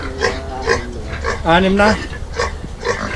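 Pigs on a farm grunt and oink repeatedly close by, one drawn-out squeal standing out midway, mixed with people talking.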